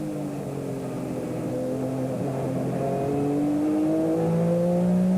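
BMW M3 GTR race car engine at Portland, a sustained near roar with rising and shifting harmonic tones as it accelerates, growing steadily louder.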